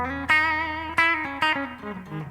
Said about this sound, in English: When I did the bridge pickup, what I did is I did it in a way that it has a lot of power if you have distortion